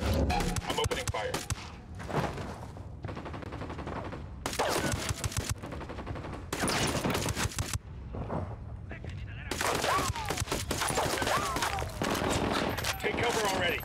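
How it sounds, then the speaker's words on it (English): Bursts of gunfire from the video game Ghost Recon Wildlands, including flintlock shots, come in repeated loud volleys separated by short gaps, with voices talking over the shooting. "I'm opening fire"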